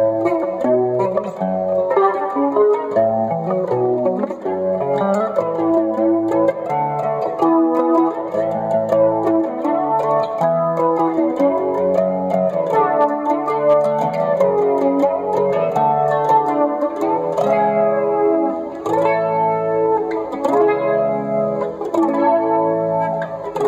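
An electric guitar runs through a BYOC flanger pedal with added reverb. Its chords and arpeggios sweep and shimmer, loud and sustained for the whole stretch, with no talking.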